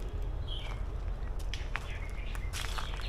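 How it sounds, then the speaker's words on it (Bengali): Birds chirp and call in a forest bird sanctuary in Kolkata, with short bright calls scattered over a steady background hiss at moderate distance, no talking. "পাখির কিচিরমিচির শুনতে পাচ্ছি"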